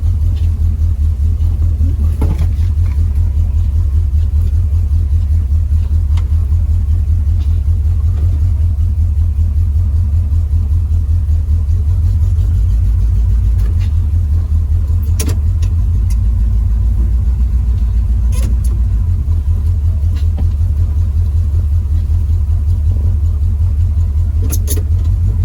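A 1973 Pontiac Firebird with the power steering unhooked drives slowly, its engine giving a steady, loud low rumble throughout with occasional faint clicks and knocks.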